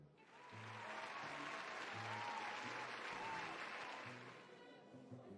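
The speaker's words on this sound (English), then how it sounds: "There's a round of applause, cheers, and even some hoots" A crowd at a feast bursts into applause with cheers and hoots, a sustained clapping wash rising and fading over a few seconds, with background music beneath.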